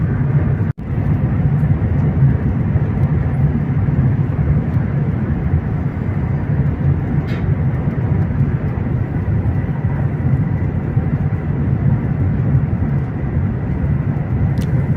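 A steady, loud rushing roar fills the cabin of a Shanghai-Beijing high-speed train cruising at 350 km/h, continuous and unbroken apart from one brief knock near the start.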